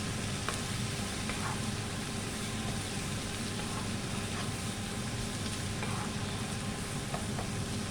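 Chopped capsicums sizzle steadily in a hot pan for capsicum rice, a constant dense frying hiss with occasional faint clicks and spatters, close and even throughout with no talking.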